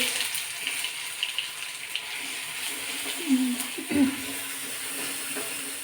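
A continuous rush of water poured into a pan of crackling mustard seeds, garlic, chili and ginger, a faint sizzle underneath, and a brief voice murmuring midway.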